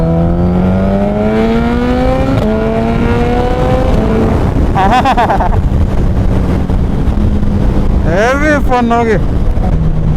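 A Suzuki Hayabusa with a Brocks carbon exhaust revs hard up through the gears, its pitch climbing and dropping. Sharp exhaust pops crackle in short bursts amid heavy wind noise, and a rider speaks briefly.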